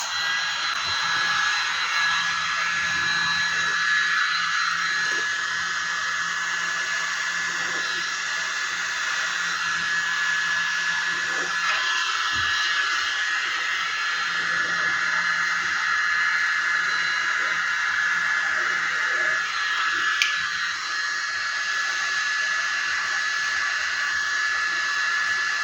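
A hair dryer blows poured acrylic paint across a surface, a continuous even hissing whoosh with a faint motor whine held steadily for over twenty seconds.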